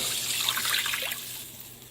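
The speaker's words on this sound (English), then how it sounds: "I'm going to add the water." Water pours into a pan of simmering sweet sour pork spare tips, a brief close splashing trickle that fades after about a second, leaving a soft hiss.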